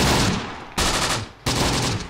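Mortar shells launching in the WWII strategy game Close Combat: The Bloody First, with two sharp, loud booms roughly 0.7 seconds apart, each followed by a decaying rumble.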